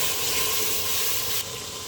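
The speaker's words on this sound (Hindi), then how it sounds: "इसके साथ थोड़ा पानी भी लगा दें ताकि मसाले जले नहीं।" Water splashed into a pan of frying spices and tomatoes for an aloo gobi curry gives a loud, steady hissing sizzle that runs the whole time and eases slightly near the end, with no talking.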